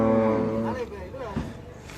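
Cattle at a livestock market give a single drawn-out moo close by, with a lower grunting tail fading at the end.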